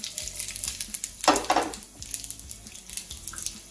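Cloves, jeera and cashew nuts fry in hot oil in a pan, a close crackling sizzle with a brief louder burst of spitting near the middle, then a steady bubbling fry.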